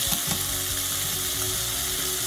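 Two cans of rinsed, drained cannellini beans drop into a hot pan with garlic, giving a steady, close hiss of sizzling with a few soft clatters of beans landing at the start.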